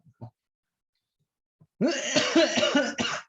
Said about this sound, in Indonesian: Batuk rek, sorry.